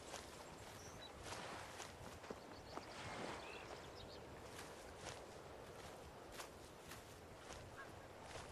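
Footsteps crunch along a river bank in the video game Skyrim, a steady walking rhythm at moderate level over a continuous outdoor ambience of water and wind.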